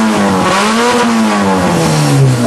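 A 1997 Mazda engine fitted with a modified exhaust revs hard and loud nearby, its raspy note climbing and falling in pitch with no talk over it.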